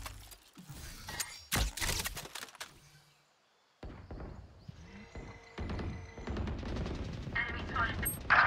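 Bursts of gunfire in a shooter game, clusters of sharp rapid shots broken by a short quiet gap, then denser firing and clicks toward the end, mixed with game effects.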